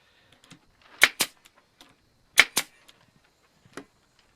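A Harbor Freight air stapler fires close up in two quick pairs of sharp pneumatic snaps, each a shot followed by a second clack, with a fainter click near the end.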